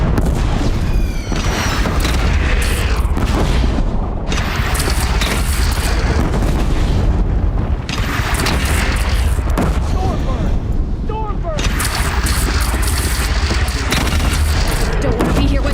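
Heavy fire from a Deathbringer machine in the video game Horizon Zero Dawn: loud, rumbling booms and blasts that roll on almost without a break, with shouted voices and game sound effects mixed in.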